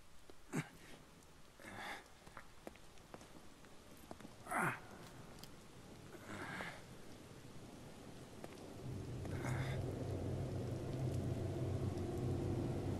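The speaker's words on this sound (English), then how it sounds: "I hope that's rain." Rain falls in the survival horror video game The Evil Within, starting faint and scattered with occasional distant rumbles, then swelling into a steady, heavier downpour.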